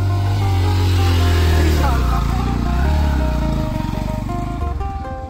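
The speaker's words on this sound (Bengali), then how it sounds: "বাইক নামতেছে।" A motorcycle engine revs and labors as the bike comes down a steep riverbank on a river char, loud and close, the drone wavering with throttle, while people talk over it.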